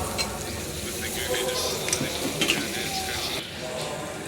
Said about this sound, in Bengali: এখানে আমি পরিমাণ মতন আদা রসুন পেস্ট করা ছিল এটা আমি দিয়ে দেবো টমেটো কুচি